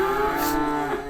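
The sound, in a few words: cows mooing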